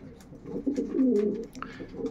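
Racing pigeons in a yearling loft give low, soft cooing, steady and near, with faint scuffling and light clicks mixed in.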